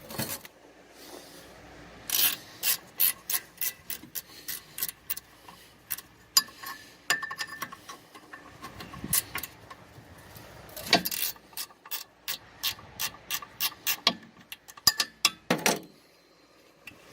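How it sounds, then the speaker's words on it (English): A ratchet wrench loosens four nuts on a 1988 EZGO golf cart engine, giving long runs of quick, evenly spaced clicks, close and fairly faint, with short pauses between runs. "Take these here 4 nuts loose. Make sure your wrench is going the right direction."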